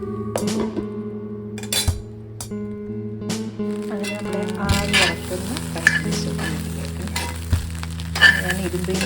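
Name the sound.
mixed fried rice frying and stirred in an iron pan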